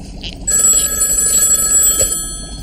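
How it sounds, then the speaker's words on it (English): A telephone bell rings steadily for over two seconds, a bright, sustained electric ring that starts abruptly and stays loud and close, with no talk over it. "A ringing phone."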